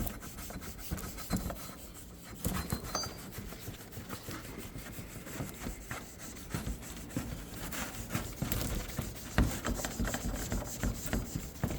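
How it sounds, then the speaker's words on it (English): A Scotch-Brite pad scuffs old rust off a pit bike exhaust, giving a steady, close, gritty rubbing and rasping that comes in repeated strokes for several seconds without talk. "take your Scotch-Brite pad, rub this down real good, scuff everything up, try to get all that old rust off of here"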